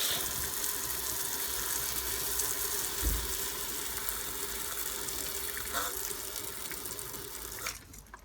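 Water from a tap runs steadily over a Jaguar X-Type intercooler pipe as it is rinsed, a loud continuous gushing splash close up that shifts slightly as the pipe moves, ending with a brief knock.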